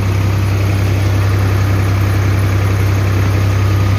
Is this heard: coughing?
no